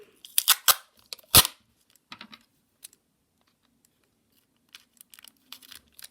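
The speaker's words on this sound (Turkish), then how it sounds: "Bantımı kopardım." Tape is ripped in a few sharp bursts, followed by scattered light crinkles and small clicks, close by with silence between.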